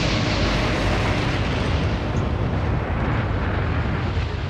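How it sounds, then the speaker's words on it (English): A massive shipboard magazine explosion as HMS Barham is torpedoed by a German submarine, heard as a continuous, loud, dense roar filling the whole stretch with no breaks and no voices. "The devastating effect of a magazine explosion was captured on film 6 months later, when another ship, HMS Barham, was torpedoed by a German submarine."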